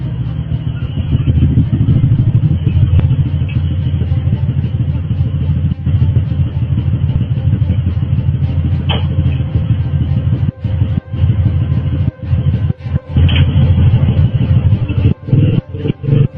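Thieves make off with a motorcycle: a loud, steady low engine rumble and road noise run throughout, with clattering knocks and brief dropouts near the end, recorded at high volume.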